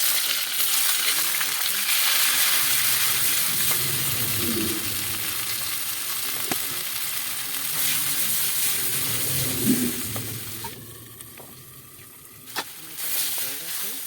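Potatoes frying in hot oil in a kadai with cumin and bay leaf, a steady close sizzle with occasional stirring scrapes, easing off near the end.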